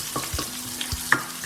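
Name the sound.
stir fry sizzling in pan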